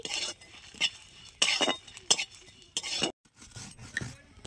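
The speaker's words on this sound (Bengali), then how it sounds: "আমি শুকনো খোলায় কিন্তু সব মশলাগুলো কিন্তু ভেজে নিচ্ছি" Spices dry roasted in an empty pan and stirred with a metal spoon: intermittent scraping and clinking strokes, close and fairly quiet, with brief pauses between them.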